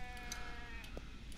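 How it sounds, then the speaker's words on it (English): A video game sheep bleats faintly from a distance against a low ambient rumble, a short wavering call with a few soft clicks around it. "I hear that sheep"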